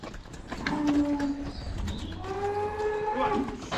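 Cattle mooing in a farm yard, two long drawn-out low calls close by, one after another, with some faint bird cooing and shuffling in the background.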